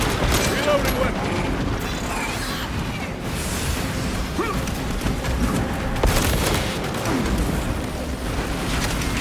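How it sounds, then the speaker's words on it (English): A weapon reloads in Warhammer 40K Space Marine 2, mechanical clacks and clicks buried in dense, continuous battle noise with scattered shots and booms, while voices call out over the fighting. "Reloading weapon!"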